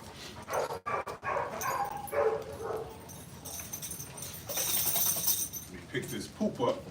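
Training dogs bark and whimper up close, with yelps and whines breaking through a voice talking over them.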